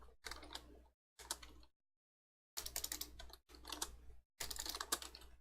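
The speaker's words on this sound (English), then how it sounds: "That is bad typing" Quick bursts of typing on a computer keyboard, close and crisp, coming in several short runs of rapid clicks separated by brief silences, with nobody speaking.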